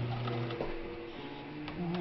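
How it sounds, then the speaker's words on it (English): A vintage Swedish Viking automatic sewing machine runs in a steady straight stitch, giving a continuous mechanical hum and whir with a few light clicks, close up and alone. "We're stitching along in a straight stitch."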